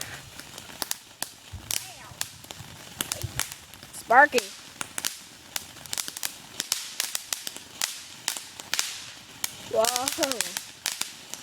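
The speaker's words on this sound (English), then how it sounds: "I'm lighting fireworks." Small handheld fireworks being lit outdoors give off a run of sharp crackling pops and snaps, with louder bursts near the start and again toward the end, while people talk and exclaim over them.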